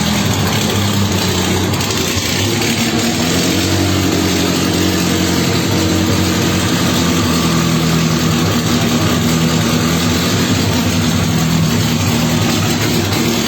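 A classic MG car idles close by at a Classic Days 2021 show, its engine holding a steady, loud low rumble for the whole stretch with no speech over it.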